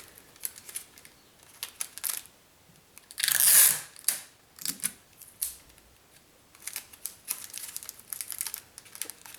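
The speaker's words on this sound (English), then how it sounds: "So I'm just popping some tape onto there and then taping that on." Tape pulled off and pressed onto a small papier-mâché mannequin head: scattered close crackles and taps, with one loud, brief tearing burst partway through.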